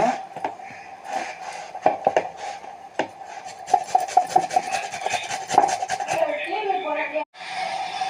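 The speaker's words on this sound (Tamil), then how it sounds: "முள்ளங்கி ஒன்று எடுத்துருக்கேன், அதுவும் நம்ம துருவி எடுத்துக்கலாம்" A radish is grated by hand in a kitchen, giving a close, continuous rhythmic rasping with quick repeated strokes and scattered clatter.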